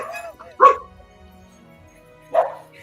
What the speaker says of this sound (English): When your camera is muted, Aiden, it just looks like the dog noise are like coming out of like your icon the same way your voice does.